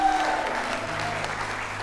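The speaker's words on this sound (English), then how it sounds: "May I give them a round of applause." Wedding guests in a church hall applaud the newly announced couple, a steady, dense wash of clapping from a full room with faint background tones underneath.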